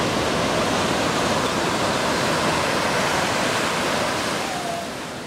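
Ocean surf at Balangan beach in Bali, a surfing spot with fairly large waves, makes a dense, continuous roar that stays loud and even, easing slightly at the end.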